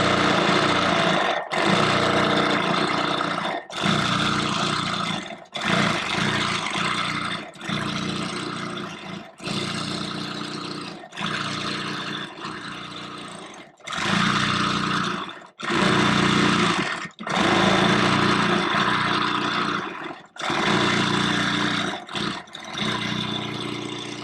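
A longarm quilting machine sews with Aurifil 40wt thread, its fast motor-driven stitching whirring loudly in repeated bursts of a few seconds each, separated by short pauses.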